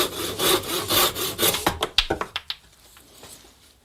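Cutting an inch off the thrusting tip of a foam sword: a handsaw strokes back and forth in a quick rhythm, close and moderately loud, then slows into a few short final strokes and stops.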